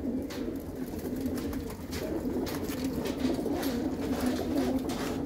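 Pigeons coo softly and continuously, a low, throaty bubbling chorus from several birds close by, at a pigeon loft preparing for a pigeon race.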